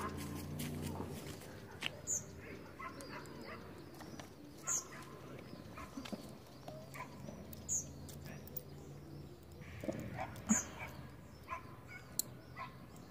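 A dog out on a morning walk in a park gives several short, spaced barks at a distance, with birds and pigeons cooing and faint background noise between them.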